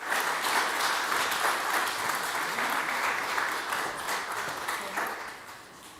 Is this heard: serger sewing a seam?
no